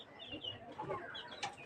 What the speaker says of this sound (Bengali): নিচে মুরগি,